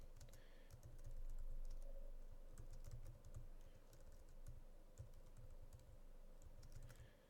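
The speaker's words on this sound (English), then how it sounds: "just type some text in here" Typing on a computer keyboard while entering text into a Google Slides text box: quick, irregular bursts of key clicks, close and clear over a faint steady hum.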